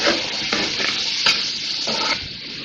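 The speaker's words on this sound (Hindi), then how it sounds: "भूनेंगे मसाले को।" Masala roasting in a pan for a Bakra Eid dish: steady loud sizzling with several scraping stirs of a spoon, close up, with no voices.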